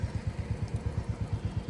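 A Splendor motorcycle engine on a mountain road during the Mani Mahesh pilgrimage, a faint, steady, fast putter of regular low thumps.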